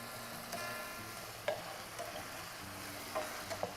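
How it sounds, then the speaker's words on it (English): Spices with cumin and oregano are stirred in a pan, a low quiet sizzle with a few light scrapes and taps of the utensil spaced through it. "Stir this."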